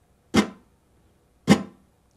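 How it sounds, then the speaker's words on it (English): Two sharp, percussive muted palm strums on an acoustic Spanish guitar in a flamenco or Latin rhythm, each a quick damped thump that dies fast, about a second apart, in quiet surroundings. "we do this little muted strum where we bring our fingers down and then automatically drop our palm right into it"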